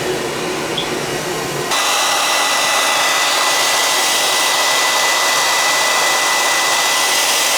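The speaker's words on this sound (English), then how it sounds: "you got a hair dryer? We'll plug it in and see if we can." A hair dryer roars steadily at close range, a loud continuous whoosh that shifts up in pitch after a moment and keeps running.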